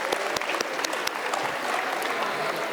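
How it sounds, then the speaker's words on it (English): An audience at a school annual day claps in a brisk, steady round of applause, fairly close and even, with individual sharp claps standing out from the crowd's patter and no voices heard over it. "Let us give a big round of applause for all of them."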